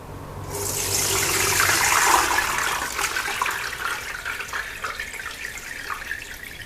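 Water pours off soaked sago pearls as they drain, a close, full rush that swells for a couple of seconds, then thins into a lighter, uneven trickle.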